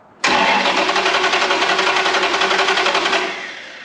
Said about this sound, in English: I'm gonna try cranking out the starter and see what happens.